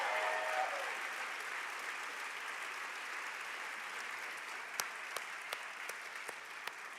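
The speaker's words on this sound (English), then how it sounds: "I want to hear the loudest round of applause in this room" An audience applauds at the Heroes & History Makers Celebration, a broad, steady roar of clapping across a room that gradually thins, with a few isolated sharper claps standing out near the end.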